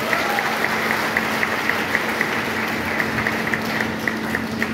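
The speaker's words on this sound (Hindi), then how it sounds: "ये तो ताली बजा दो" An audience at a business seminar applauds steadily for nearly five seconds, a dense wash of clapping with faint rhythmic accents running throughout and no voices on top.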